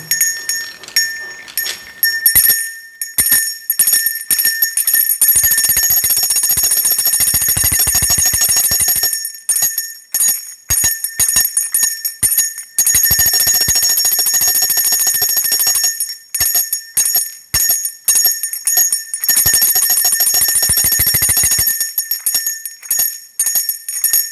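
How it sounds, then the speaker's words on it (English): Loud, bright ringing of a bell in long sustained bursts, broken by short pauses and repeated several times, heard alone and close. "I will ring my bell."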